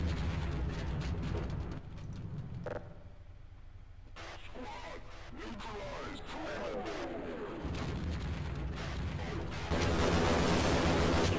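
Gunfire and explosions in the Half-Life video game, a dense stretch of booming shots and blasts that fills most of the clip, with a player talking over the action.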